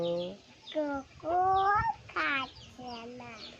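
Chickens cluck and squawk nearby in a series of short, tonal calls, some drawn out, with a faint outdoor background.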